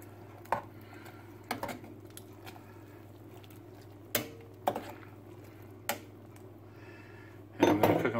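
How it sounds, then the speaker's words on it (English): Charro beans are stirred in a pot with a spoon, giving a few soft, separate scrapes and clinks at uneven intervals over a low steady hum, ending in a brief, busier stir. "Stir it up."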